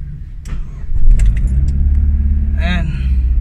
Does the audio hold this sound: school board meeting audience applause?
no